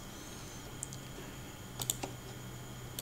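A few sparse, faint keystrokes on a computer keyboard, isolated clicks with a short cluster near the end over a quiet hum.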